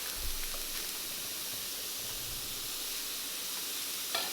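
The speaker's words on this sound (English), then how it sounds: "I'm gonna add this to my pan with a little bit of butter." Chopped onion sizzles in butter in a pan, producing a steady, soft hiss that stays even and fairly quiet throughout, close by with no voices.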